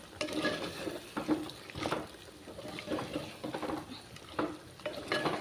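Chicken being stirred in a pan with a blended gongura leaf paste, giving repeated scraping strokes against the pan over a soft sizzle, with no talk.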